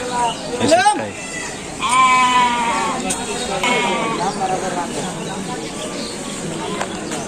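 Goats bleat loudly and close by at a village goat market, with several wavering cries in the first seconds, while people talk throughout amid general market bustle.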